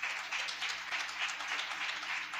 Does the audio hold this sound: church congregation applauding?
yes